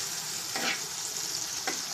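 Fried okra tossed and stirred in a hot frying pan, a close, steady sizzle with two brief scraping stirs over it.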